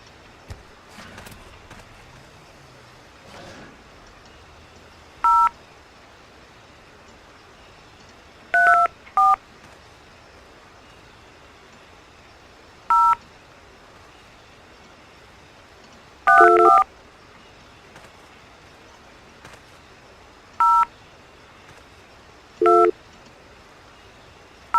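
Telephone keypad tones beep in short separate bursts on a phone in the Trespasser video game, clean electronic dialing pips spaced out over quiet background hiss.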